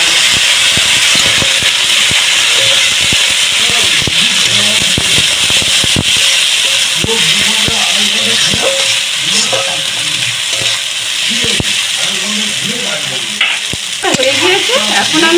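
Spices and turmeric powder stir-fry in a pan for a prawn and pumpkin curry, with a loud constant sizzle and hiss up close and repeated scraping strokes of a spatula against the pan.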